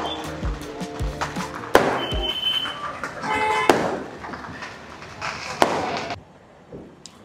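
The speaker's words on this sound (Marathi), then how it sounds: "तिथे बघा कसे फटाके फुटतात." Diwali firecrackers bursting in the open, several sharp loud bangs at irregular intervals with crackling in between, over a noisy outdoor background.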